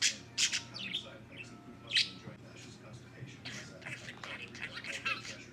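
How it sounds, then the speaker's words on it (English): A pet budgerigar chirping indoors: quick, bright, fairly faint tweets scattered in bursts over a low household hum, with no clear talk over them. "She's a bird."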